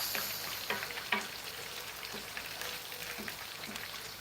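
Chopped tomato from a tin stirred in a hot frying pan, a soft steady sizzle with light scraping and clicks of the spoon, quiet and close.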